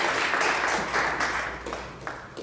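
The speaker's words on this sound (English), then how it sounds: "You all can clap." Audience clapping inside a church during a Lenten lecture at morning prayer, a steady wash of many hands that gradually thins and fades toward the end.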